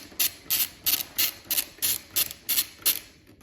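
Ratchet wrench loosening a shoulder bolt on a 2021+ Aprilia RS 660 / Tuono 660 tail section, with eight quick, evenly spaced clicking bursts close up and no talk.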